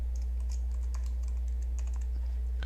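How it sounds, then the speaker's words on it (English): Keys clatter in quick, uneven bursts as a username and password are typed on a computer keyboard, the clicks close and crisp over a steady low hum, with no voices. "you get a login screen where you have to fill in your given username and password"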